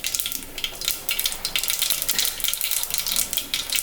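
Mustard seeds popping and spluttering in hot oil in a pan for wheat upma, a dense, steady crackle of small bursts heard close up, with no talk.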